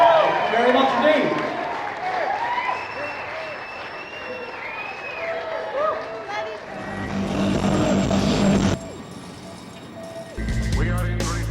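Audience applause at a Fear FestEvil horror panel with a guest musician, a dense crowd wash of clapping under overlapping voices and chatter, shifting partway through into a heavier rumbling room noise.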